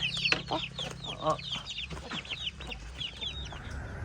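Several chickens taken to be kept at a rice field cluck and squawk in quick, uneven bursts close at hand, a few louder calls rising over the steady flock noise, no talking.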